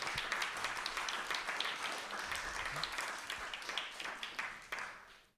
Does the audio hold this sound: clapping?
yes